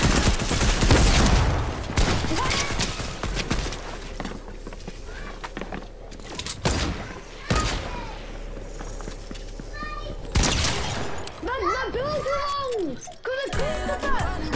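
Bursts of rapid gunfire from a Fortnite match, loud dense volleys broken by pauses, with a voice and other game sounds mixed in.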